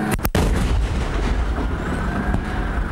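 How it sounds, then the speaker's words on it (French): Military gunfire from a warning shot, a sharp loud crack near the start, followed by continuous heavy rumbling noise, likely a vehicle engine, with no talk. "Répétez, tir de sommation."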